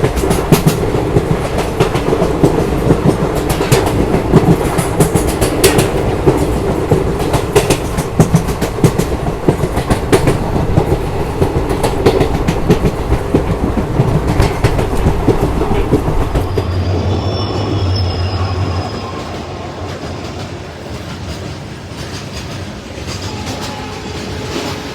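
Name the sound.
Devgiri Express train running, Mumbai–Hyderabad route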